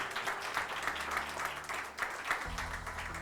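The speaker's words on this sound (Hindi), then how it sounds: "Clap your hands and give God glory." A church congregation at a Sunday Tamil-Hindi service claps in a sustained burst of applause filling the room, with a low hum and voices faintly beneath.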